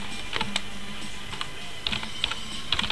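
Computer keyboard typing in short bursts of light clicks and taps, with irregular pauses between keystrokes, close and fairly quiet over a steady low room hum.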